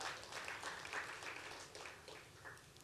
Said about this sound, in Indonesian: Tepuk tangan dulu bagi dia.